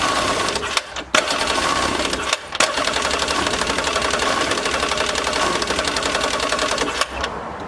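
A 1995 Yamaha WaveRunner jet ski engine, abandoned and choked, tries to start. It makes a rapid, rattling, uneven run that chatters like a sewing machine, with a couple of brief stumbles before it fades near the end.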